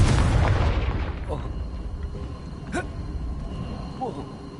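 A Confringo spell blast in Hogwarts Legacy, a deep booming explosion up front that rolls off into a fading rumble with a few faint magical whooshes and crackles after.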